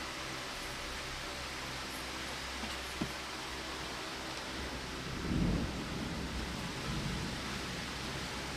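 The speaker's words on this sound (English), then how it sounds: "that's because of the electrical storm" Thunder from an electrical storm rumbles low and distant beneath steady rain-like noise, swelling briefly in the middle of the clip, with no talking.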